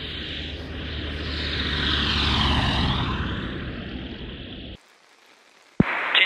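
A propeller aircraft engine heard from inside the cockpit, a steady droning roar that swells and shifts in pitch, then cuts away to near silence before a sharp click and renewed noise.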